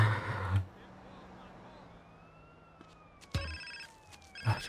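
A telephone rings in GTA San Andreas: two short electronic ring bursts, separated by a gap, over a low game background hum after a brief bit of talk at the start.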